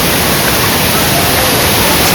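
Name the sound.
waterfall at Kondhane Caves near Karjat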